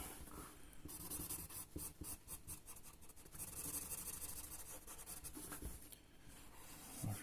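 Colouring pencil scratching on paper while drawing a Captain America portrait, close, faint, quick back-and-forth strokes that come in busy bursts with brief pauses between them.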